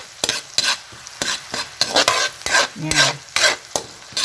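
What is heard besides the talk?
garlic and onion frying in a pan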